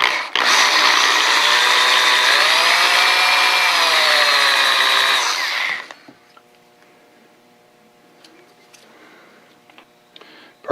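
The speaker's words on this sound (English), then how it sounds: "time to drill the next one" A power drill bores a hole during a machinery upgrade, whining loud and steady for about six seconds with the pitch sagging slightly under load, then stopping abruptly and leaving faint ticking and quiet workshop noise.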